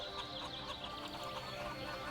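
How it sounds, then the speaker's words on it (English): Chickens cluck steadily in the Cities: Skylines city-builder game, a dense, continuous layer of farm-animal clucking with no talk over it. "Can you hear the chickens? I can hear the chickens."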